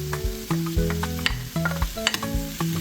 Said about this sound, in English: We put in our chopped garlic